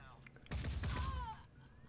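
Gunfire in the tactical game Phoenix Point, a short loud burst of shots from the middle of the clip, with a rising whine after it and quieter game ambience before and after.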